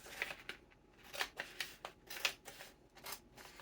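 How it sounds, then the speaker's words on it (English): Scissors cutting down the sides of a paper envelope: a series of crisp snips in an uneven, steady rhythm, close and fairly quiet, with no talking over them. "And then I'm going to literally just cut down the sides."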